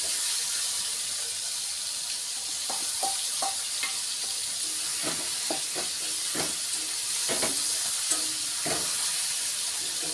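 Chicken cooking in a pan, a steady bright sizzle close by with repeated scraping and clinking stir strokes scattered over it, no talking.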